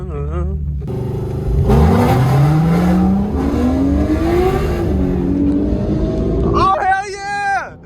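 Car revving hard from a launch with tires spinning, engine pitch climbing and sweeping up loudly, then a short burst of tire squeal near the end; people talk and shout excitedly throughout.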